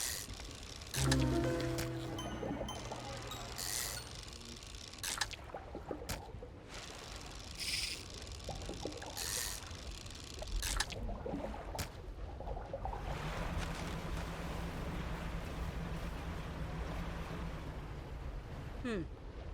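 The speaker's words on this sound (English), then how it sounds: "Please try to keep your engine noise to a minimum." A fishing boat's engine in the Lovecraftian fishing game Dredge gives a low, steady hum under splashing water and scattered game effects, growing more continuous in the second half.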